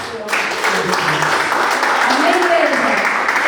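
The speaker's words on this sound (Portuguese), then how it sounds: "Uma salva de palmas" Church congregation applauding after a prayer in a Portuguese-language service, steady clapping filling the room throughout, with talk mixed in.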